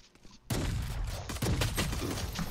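Shotgun fire in the Valorant video game, a sudden loud blast followed by a dense burst of heavy shots and rattling that carries on for a couple of seconds with no talking.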